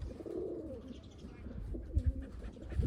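Pigeons coo softly nearby on a rooftop, low throaty calls repeating over quiet outdoor background noise.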